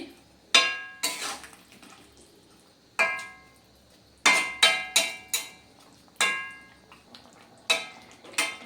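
A spoon knocks and scrapes against a pan while spice powder is mixed into shukto, producing a series of sharp metallic clinks in uneven bursts, close and clear, with no talking.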